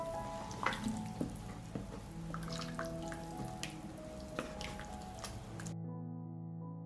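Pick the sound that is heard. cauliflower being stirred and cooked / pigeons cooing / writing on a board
cauliflower being stirred and cooked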